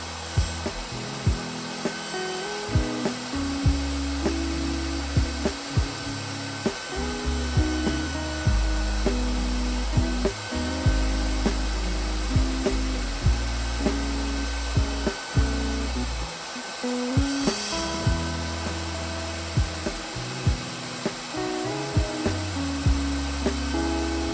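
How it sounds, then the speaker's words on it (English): A power saw with a miter gauge cuts teak for a shower table, a loud steady motor whine broken by repeated short cuts and pauses, with thumps and small rhythmic changes as the wood is fed in. "I'll use a miter gauge here and make my cuts, just sneaking up on that line until I get the perfect fit."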